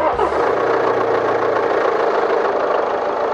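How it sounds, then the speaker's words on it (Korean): A steady, loud Land Rover Discovery Sport Ingenium diesel engine drone with a low rumbling idle and faint knocking texture, continuous throughout. "엔진 소리 조용해졌네?"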